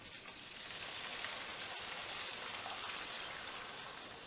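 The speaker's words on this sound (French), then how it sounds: "je rajoute maintenant mon eau bouillante avec le bouillon" Boiling water with broth poured in one go onto rice for Turkish pilaf, giving a steady, close rushing hiss and sizzle that runs evenly throughout with no talk.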